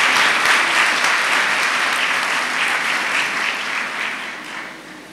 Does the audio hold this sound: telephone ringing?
no